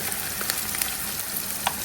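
Fresh tomatoes going into a hot pan for a corned beef egg sauce, giving a steady bright sizzle with a few sharper crackles and a stir, close and continuous with no talk.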